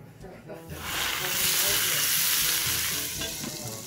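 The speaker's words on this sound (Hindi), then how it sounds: "हमारी मिर्ची भी रेडी है, और हमारा ये घी अब बिल्कुल गरम हो चुका है।" Hot ghee with chilies is poured over Punjabi pindi chole, and a loud hissing sizzle erupts after a moment, peaks close up, then slowly eases while still crackling.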